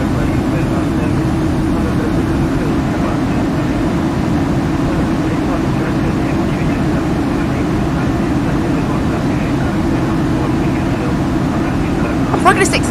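Steady cabin air noise inside a Ryanair 737-800 in Flight Simulator X, a loud, unbroken low rushing roar that holds evenly throughout, with a brief faint click near the end.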